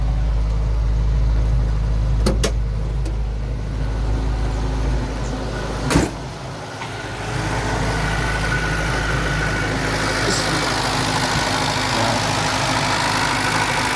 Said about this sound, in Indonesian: mesin masih nyala